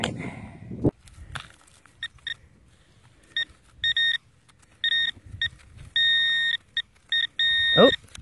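Garrett Ace 400 metal detector beeping over a buried target at an 1800s Victorian home and farm field, a series of short and longer electronic tones in uneven bursts, with brief rustling between.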